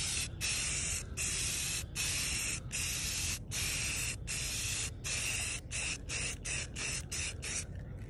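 Spray paint going onto a trim piece as a light first coat: a loud, close, continuous aerosol hiss broken by many brief pauses as the nozzle is tapped, quickening toward the end.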